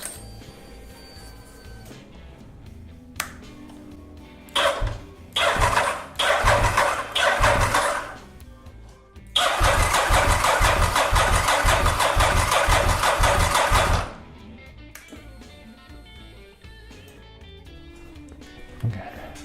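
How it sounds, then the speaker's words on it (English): Honda RC51 motorcycle engine being cycled with the kill switch on, loud cranking in several short bursts followed by one long sustained churn of about five seconds, then quieter clicks and ambient noise, no talking. "I just cycled the engine a few times with the kill switch on."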